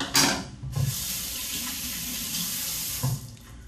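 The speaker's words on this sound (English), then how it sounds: "Now I'm washing my hands real good here" Hands scrubbed under a steady stream of running tap water at a kitchen sink while kneading seitan dough, a continuous close splash with brief sharper bursts near the start and end.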